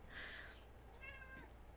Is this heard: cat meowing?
yes